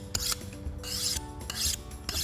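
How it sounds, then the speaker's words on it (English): A craft knife blade for cutting foam is drawn across a sharpening surface in four quick rasping strokes, close and crisp, each a short scraping burst with small pauses between. "let's sharpen a knife and cut it out"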